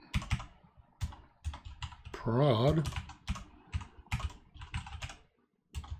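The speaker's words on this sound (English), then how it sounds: "my typing is not good today." Rapid clicking of computer keys in uneven bursts, close and fairly quiet, with a brief spoken word in the middle.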